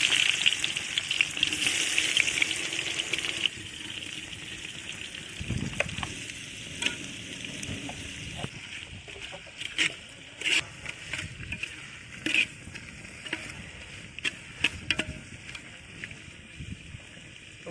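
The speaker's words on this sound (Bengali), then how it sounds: "এখন দিয়ে দেবো এর মধ্যে কুচি করা পেঁয়াজ" Chopped onion dropped into hot oil with whole dried red chillies for a mutton curry, a loud, close sizzle for the first few seconds that settles into a softer steady frying hiss with scattered crackles and spoon clicks.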